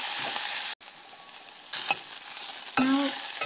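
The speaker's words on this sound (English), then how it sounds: "Let's cook this till the raw smell of ginger garlic goes off." Ginger, garlic, onion and tomato fry in a pan with a steady sizzle, broken by a brief pause and occasional scraping stirs, loud and close throughout with no talking.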